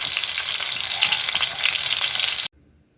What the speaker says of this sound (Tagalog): ito yung pinirito kong daing na bangus